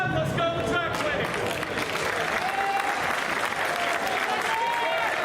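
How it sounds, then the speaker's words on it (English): A crowd clapping at a race event, with dense, sustained applause mixed with cheering and babble of voices, loud and continuous throughout. "everyone's clapping"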